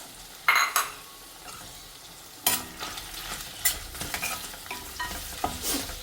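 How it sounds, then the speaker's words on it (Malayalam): Sliced onions sautéing in a pan for a pomfret fish stew, with sharp scraping stir strokes and clatter at irregular intervals over a soft, continuous sizzle. No one speaks. "സവാള മൂത്ത് വരേണ്ട ആവശ്യമില്ല സ്റ്റൂവിന്."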